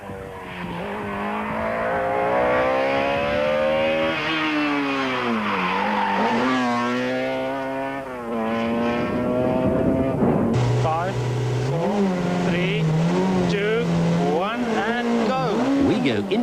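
Four-wheel drive Volkswagen Golf rally car pushed hard through a 1995 rally stage, the engine revving high and swooping through gear changes, with tires squealing, loud and close. A narrator talks over it.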